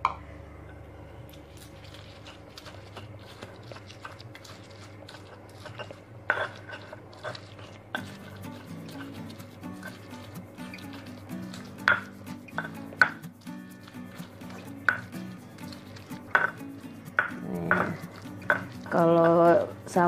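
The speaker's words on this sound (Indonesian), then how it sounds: "Cabai yang sudah direbus kita haluskan sampai halus" Boiled chilies being ground smooth for sambal to serve with rib soup, with steady scraping and pounding in a kitchen, irregular knocks and clatter getting busier toward the end, no talking.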